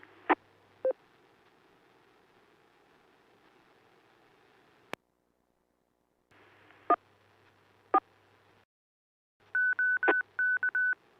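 Bursts of DTMF touch-tone beeps set a radio repeater into net mode: a few isolated tones, then a quick run of rapid beeps at the end over faint radio hiss and brief dropouts.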